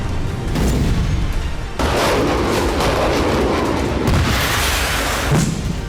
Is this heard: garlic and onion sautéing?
no